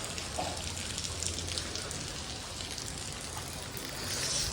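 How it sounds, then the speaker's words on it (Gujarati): Soft, steady hiss of rain falling, fairly faint and even throughout, with no distinct drops or voices standing out. "વરસાદ ચાલુ જ છે"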